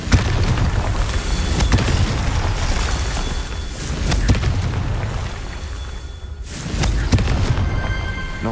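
A Confringo fire spell bursts repeatedly in the Hogwarts Legacy game, booming thuds landing every second or two over a dense, continuous roar of combat noise, with a brief lull before another loud blast.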